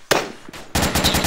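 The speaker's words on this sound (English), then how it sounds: "Shooting." Bursts of automatic gunfire from the Arma II military shooter game, a sharp opening shot followed by rapid repeated rattling fire, loud and close, with no voices.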